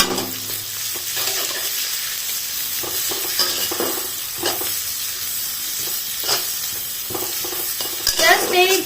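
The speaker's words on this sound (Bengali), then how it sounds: "জাস্ট এই 1 মিনিট মতো ভাজবো, বেশি ভাজবো না" Chopped garlic, chilli and onion sizzle in hot oil while being stir-fried for veg Hakka noodles, a steady close fry broken by spatula scrapes and stirring knocks, with no talk.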